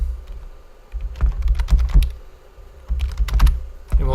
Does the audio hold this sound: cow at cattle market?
no